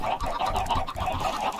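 Chickens clucking in Minecraft after a creeper blew open their pen, a dense run of busy, overlapping clucks close by, fairly quiet and without talk.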